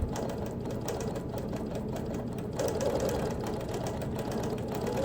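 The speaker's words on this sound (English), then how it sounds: "So I'm quilting right up against the edge of that green part." A sewing machine stitches quilting lines right against the edge of green appliqué and embroidery, a steady continuous mechanical whir running evenly throughout at close range.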